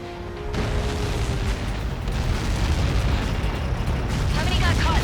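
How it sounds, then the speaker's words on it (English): A film-scene projectile impact explosion follows a cleared-blast-area countdown, erupting into a sustained loud rumbling roar with continuous broadband debris noise that fills the whole stretch without letting up. "How many got caught in that explosion?"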